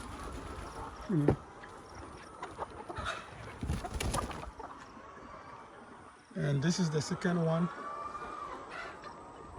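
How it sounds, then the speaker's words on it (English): Hens cluck and squawk in short bursts at a moderate distance on a poultry farm, with someone talking over them. "we have chickens in all of them"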